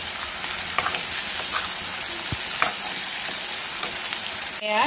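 Potatoes sizzle and crackle steadily in hot oil with duck meat, with occasional scrapes and stirring clinks close by and no one speaking.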